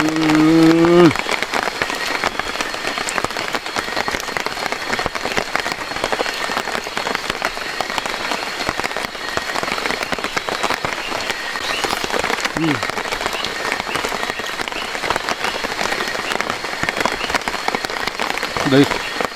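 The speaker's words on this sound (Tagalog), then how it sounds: "Lakas ng ulan eh." Heavy rain pours down in a dense, constant hiss, with brief voices breaking through at the start and near the end.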